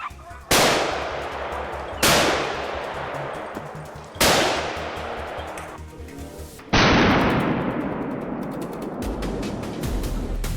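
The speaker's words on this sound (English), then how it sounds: "A swift, precise shot, eliminating the threat lurking deep in the wilderness." A hunter's rifle fires four sharp, loud shots on grassland during a wild boar hunt, spaced a couple of seconds apart, each cracking hard and then fading into a long rolling echo; no talk.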